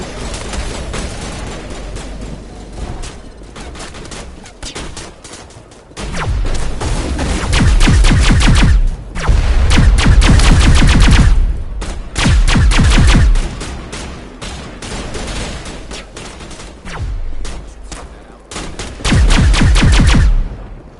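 Gunfire rattles through a battle in the video game Mass Effect Legendary Edition, loud rapid automatic bursts that come in long repeated volleys with booming low thuds between brief lulls.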